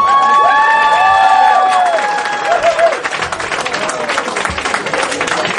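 A concert crowd claps and cheers for a band, with whistles and shouted voices rising over the applause at first, then settling into steady clapping.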